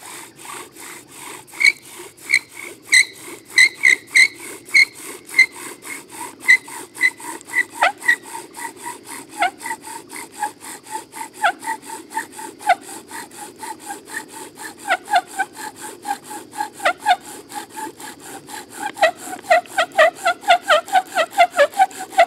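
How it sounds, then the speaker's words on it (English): A wooden bow drill squeaks steadily against its wooden board, each back-and-forth stroke giving a rhythmic, close-up squeal that quickens toward the end, with no voices. "all that squeaking is actually a sign something wasn't quite right"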